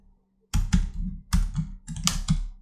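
Fingers type on a computer keyboard in close, crisp bursts of rapid key clicks separated by short pauses, with no talking.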